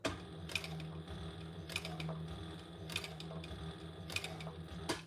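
A sewing machine with a zipper foot stitches along a fabric edge in short bursts with a rapid mechanical whir and clatter, pausing briefly between runs, fairly close and moderately quiet.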